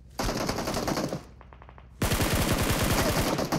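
Loud, sustained automatic rifle fire in PUBG Mobile, a long burst that stops briefly, then a quieter rapid rattle, then another heavy close-range volley.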